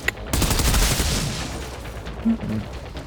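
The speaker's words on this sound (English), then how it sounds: "It seems to be just a automatic rifle" Automatic rifle fire in the shooter game Outriders, a loud, rapid sustained burst up close that trails off into a lingering rumble, with a few brief voice sounds near the end.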